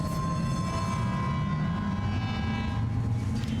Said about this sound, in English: now we get to go for one last monorail trip